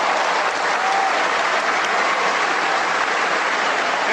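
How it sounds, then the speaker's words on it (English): Steady, dense applause from an audience at a group call, clapping continuously and loudly throughout with no talk over it. "Let me get that applause going because y'all definitely deserve it."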